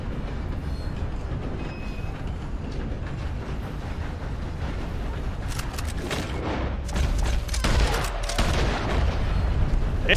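In the video game Red Dead Online, gunfire at birds cracks out several times over a steady rumbling train ride, the shots growing denser and louder toward the end.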